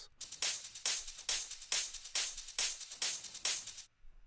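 A techno top-loop drum pattern processed with low-end EQ cuts and kick sidechaining plays steady, bright, airy hits that pump rhythmically in an even groove, then cut off near the end.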